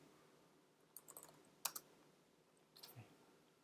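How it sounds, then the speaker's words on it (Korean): Keys on a computer keyboard are tapped in short, quiet clusters, a few light clicks separated by near-silent pauses. "이렇게 타이핑도 치실 수가 있으세요"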